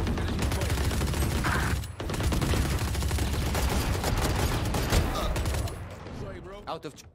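Rapid bursts of carbine gunfire in Valorant crackle almost continuously, with a brief pause near the start and a voice speaking faintly under the shots.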